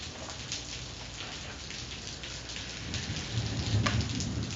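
Steady rain pattering on surfaces outdoors with a low rumble of thunder building toward the end, fairly loud and continuous, no voices.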